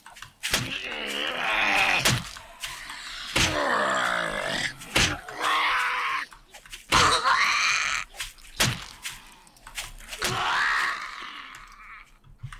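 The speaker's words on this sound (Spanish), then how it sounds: "Mira la asquerosa que sigue pegando gritos." In 7 Days to Die, a zombie screams over and over with harsh, wailing, groaning shrieks that are loud and near. Sharp thuds break up the cries.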